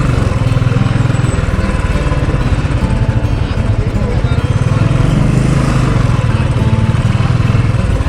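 A motorcycle engine runs steadily at the bike parking in Sonprayag on the Kedarnath pilgrimage route, a loud, close, continuous low drone that holds throughout without breaks.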